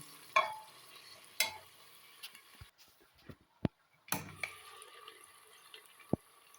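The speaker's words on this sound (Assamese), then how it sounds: "আকৌ এই কঁঠালখিনি ভাজি লওঁ।" Jackfruit pieces fry in a pan, a faint sizzle broken by several sharp clinks and scrapes of a spatula stirring against the metal.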